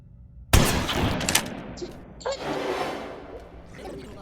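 Gunfire in the Granny Chapter 3 horror game: a sharp loud blast followed by a few more cracks and clattering impacts, with a voice talking over the action.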